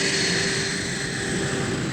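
An American F-5 jet fighter from wartime Vietnam in 1969 produces a continuous loud engine roar with a steady whine, sustained and unbroken, with no voices.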